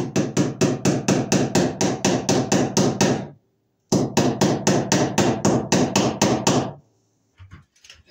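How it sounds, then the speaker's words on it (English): A makeshift tool used as a hammer, not an actual hammer, while wiring a new branch circuit into a main panel: two runs of quick, loud, evenly spaced blows, about a dozen each, separated by a brief pause, then light fumbling sounds. "he's given me the ability to use something that's not meant to be used as a hammer"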